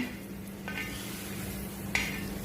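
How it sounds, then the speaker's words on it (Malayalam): Eggs are stirred and roasted in a hot pan, giving a soft continuous sizzle with a couple of brief scraping clinks from the utensil against the pan. "നമ്മുടെ മുട്ട ഞാൻ ഇതിനകത്തോട്ട് ഇട്ട് കൊടുക്കുവാണേ ഒരു ജസ്റ്റ് ഒന്ന് റോസ്റ്റ് ചെയ്തെടുക്കുവാണ് ഇത്"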